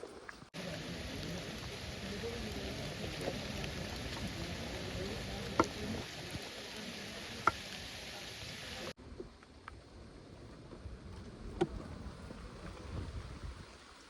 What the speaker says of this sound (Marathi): पावसाने जरा पण आराम घेतला नाही नुसता कोसळतोय नुसता कोसळतोय